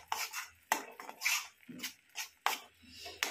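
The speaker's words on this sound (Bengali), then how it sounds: "একটু নেড়ে নেবো।" Green chutney stirred in a pan with a utensil: several short scraping and clinking strokes of spoon against the pan, close and fairly quiet, with a dog whimpering faintly in the background.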